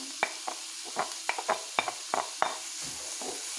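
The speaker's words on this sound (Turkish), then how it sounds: "soğanlarımızı, sarımsağımızı kavuralım" Chopped onions and garlic sizzle steadily in hot oil, with light scrapes and clicks of stirring scattered through the frying.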